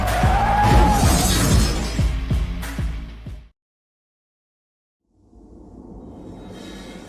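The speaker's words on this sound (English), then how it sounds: "This driver decided that a patio cafe was the perfect parking spot and crashed into it." A car plows into a patio cafe, with loud crashing and shattering glass under a burst of music, followed by a sudden drop to silence and then a low rumble that returns.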